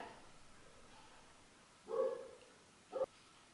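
Two short, faint dog barks from some distance away, spaced about a second apart, over an otherwise quiet indoor background.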